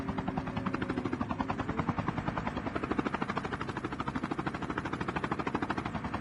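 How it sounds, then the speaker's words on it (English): Steady rhythmic thudding of a helicopter's rotor in Call of Duty: Mobile, a close, continuous chop with a mechanical whine, alone without talk. "The helicopter goes back to the skies, and they should be able to hear the vehicle again."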